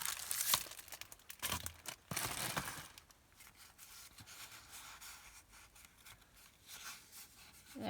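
Paper being trimmed for a collaged scrapbook page, a few crisp cutting and crinkling sounds early on, then softer rustling and handling of the paper, close and quiet.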